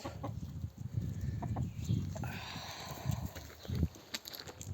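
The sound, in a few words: hen clucking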